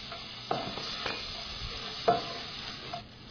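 Cumin seeds and chopped garlic fry quietly in a pan for tomato soup, a low sizzle with a few scraping stirs, no talking.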